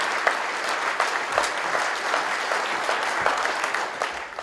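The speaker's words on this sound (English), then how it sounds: "Let's give all of us a big round of applause." A banquet room full of guests at an awards dinner breaks into steady, dense applause that holds evenly for several seconds with little talking underneath.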